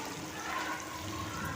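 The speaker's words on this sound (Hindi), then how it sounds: "6 टमाटर मैं इसमें डाल रही हूँ।" Fresh red tomatoes, six of them, tipped into a pot of frying beef shinwari chunks, a dense steady sizzle with watery splashing that stays loud and even throughout, with no talking.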